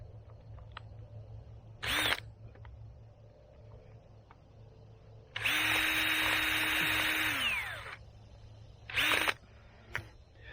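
A power drill bores into a banana plant support in two short bursts and one longer sustained run, whining at a steady speed before winding down, with quiet pauses and small clicks between.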